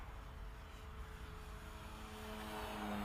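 A TAFT Fly Baby model airplane in flight, its motor a faint, steady drone under broad wind-like noise, with a thin tone rising slightly near the end.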